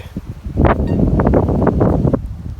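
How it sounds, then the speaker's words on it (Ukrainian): Loud, close wind buffets the microphone outdoors during metal detecting in Ukraine, in rough rumbling gusts, a low distorted roar that swells and churns throughout. "Вітер дує, вибачте, нічого не зробиш."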